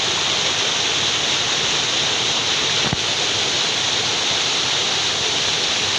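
Stream water rushes steadily while a net is rinsed into a bucket to collect macroinvertebrates during outdoor water-quality biomonitoring, a loud, even broadband wash with one brief splash or knock near the middle.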